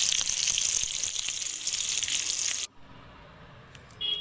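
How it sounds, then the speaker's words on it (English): Karela (bitter gourd) pieces deep frying in oil give a steady, close hiss and sizzle for a few seconds, then cut off sharply to near quiet with a faint clink near the end. "to deep fry Karelas from both the sides"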